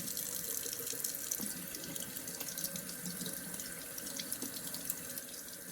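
Tap water running steadily over a waterproof matte sticker at a sink, a continuous close splashing stream with no pauses or voices.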